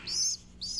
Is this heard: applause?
no